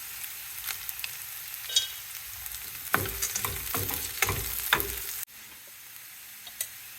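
Peanuts and chana dal with a pinch of hing roasting in a hot pan: a steady crackling sizzle with bursts of scraping stirs in the middle, then a quieter, fainter fry toward the end.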